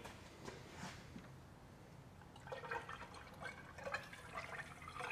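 Coolant poured into a car cooling system, a faint, low gurgling trickle of liquid that grows busier and splashier partway through, heard alone.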